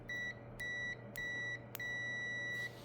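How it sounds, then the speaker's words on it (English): A continuity tester sounds steady electronic tones each time its leads touch, four beeps of uneven length with the last held longest, over a low hum. "you hear a beep."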